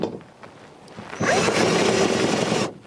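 Power drill driving self-tapping screws into metal hoophouse tubing: a loud close whine rising and holding for about a second and a half, preceded by faint scraping and handling sounds.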